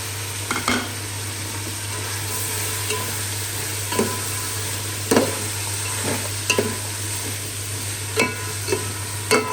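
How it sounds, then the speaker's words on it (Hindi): Chillies and carrots stir-fried with spices in a pan give a steady close sizzle, with regular scraping stirs every second or so over a constant low hum. "इसको 2 से 3 मिनट ऐसे भुनाई करेंगे इसकी"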